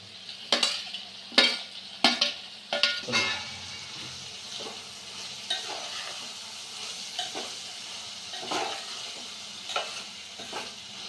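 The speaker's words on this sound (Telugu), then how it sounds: "ముందుగా కట్ చేసి పెట్టుకున్న టమాటా ముక్కల్ని యాడ్ చేసుకుంటున్నాను" Chopped tomatoes tipped into a hot pan for a cluster bean tomato curry, a burst of sizzling followed by a rhythmic run of spoon scrapes and stirring clatter over a soft, steady fry, no talk.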